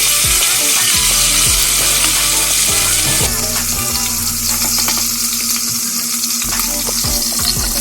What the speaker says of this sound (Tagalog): Ito po kasi ang ginagawa ko, pinafry ko muna po siya para crunchy pag naluto.